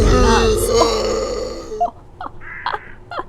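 A dense burst of game noise gives way to several short, guttural grunts from an enemy in Undead Citadel on PSVR 2, like a creature groaning in pain, spaced a second or so apart.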